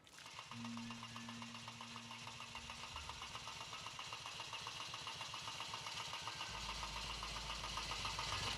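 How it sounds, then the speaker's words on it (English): A motorcycle engine starting up and running after a freezing night, with a steady mechanical drone and a continuous high whine. The engine note drops lower toward the end and stays loud and close throughout. "Pouring boiling water over the bike's engine is not exactly the best way to start it after a freezing night."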